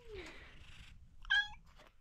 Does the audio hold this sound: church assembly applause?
no